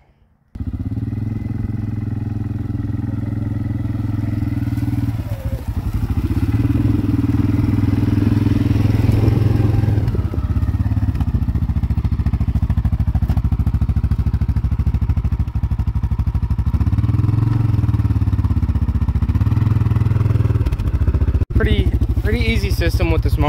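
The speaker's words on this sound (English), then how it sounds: "we're gonna back up the four-wheeler and we're gonna connect it to the mower here, and we're gonna do some passes down the strip" A four-wheeler's engine idling and pulling as it tows a large mower along a dirt drag strip on a farm, a loud steady close rumble that rises and falls with throttle, with occasional clattering and thumps.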